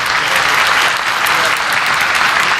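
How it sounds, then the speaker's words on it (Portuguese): A loud, dense burst of applause from a crowd standing to clap for the president, steady and sustained throughout with no pauses. "eu até queria pedir uma salva de palmas de pé para o meu presidente"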